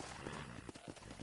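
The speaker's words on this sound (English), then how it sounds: "Come on, horsey." Horse hooves clip-clopping in the video game Red Dead Redemption, a quick run of muffled, steady hoofbeats, close and continuous, with faint background murmur.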